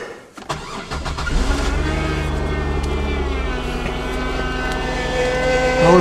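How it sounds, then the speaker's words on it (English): A car in freezing cold at minus 15 degrees Celsius, its power steering straining: an engine cranks and catches, then a steady droning whine with a rising groan holds loud and close. "Oh, the power steering is not liking this at all."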